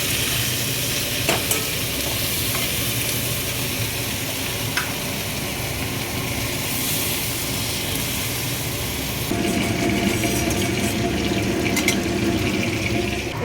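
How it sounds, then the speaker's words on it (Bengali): Chorchori, a Bengali vegetable dish, cooks in a pan with a steady, close sizzle and occasional soft stirring scrapes. The frying noise shifts slightly louder and fuller in the last few seconds. "আর এখানে তো চচ্চড়িটা হচ্ছে।"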